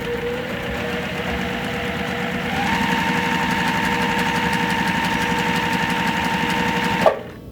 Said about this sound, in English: we are going to sew a 1/4 inch down both sides of that line